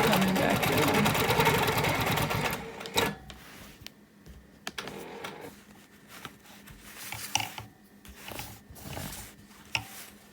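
A sewing machine runs steadily for about three seconds, stitching a piano key line across a wholecloth quilt, then stops, leaving quieter handling noises and short intermittent machine bursts.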